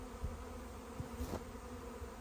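Honeybees fanning at a migrating swarm give off a faint, steady buzzing hum close by, with a few soft thumps and no talking.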